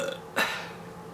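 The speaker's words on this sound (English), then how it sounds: "I'm burping, I'm sorry, that's what I do now" A woman lets out a single short burp, close and clear, in an otherwise quiet indoor room.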